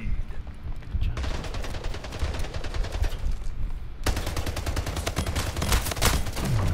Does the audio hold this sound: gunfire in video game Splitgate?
yes